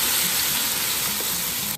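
Eggplant for garlic eggplant frying in a pan, a loud continuous close sizzle and crackle running unbroken throughout, with no talking.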